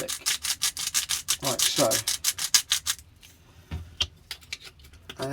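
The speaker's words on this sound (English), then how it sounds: "you get your chef's knife, and you press the garlic quite firm" A chef's knife pressed firmly and dragged over garlic with rock salt on a board, making rapid rhythmic rasping scrapes that turn sparser and quieter, with a brief spoken remark.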